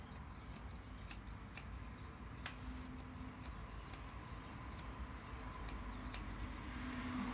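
Scissors snip rapidly and steadily through poodle hair during grooming, close and fairly faint, a continuous run of small crisp cuts with no talk.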